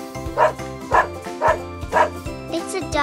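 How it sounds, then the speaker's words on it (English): A dog barks in a steady run of four or five sharp, evenly spaced barks, close and loud, with a light musical backing beneath. "It's a doggy."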